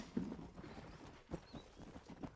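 Horse hooves clip-clopping in the video game Red Dead Redemption, a few soft irregular hoof thuds, faint and muffled beneath a low background hum.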